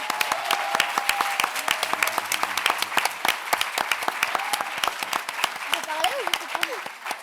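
Audience applause at a Cannes film festival press conference greets Lilou Siovo, a steady wash of many hands clapping throughout, with faint voices and a brief tonal sound under the clapping.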